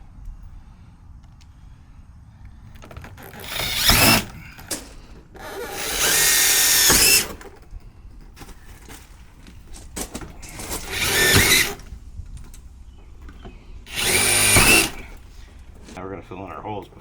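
A power drill drives screws into a gate in four loud, close whirring bursts of a few seconds each, separated by quieter handling noises.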